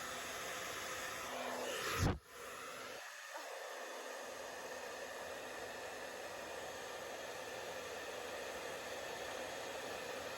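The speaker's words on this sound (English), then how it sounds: "Wind meaning blow dryer. So I'm gonna put it on the highest setting" A hair dryer roars steadily at full blast, a loud broadband whoosh that continues without pause after a brief click at the start.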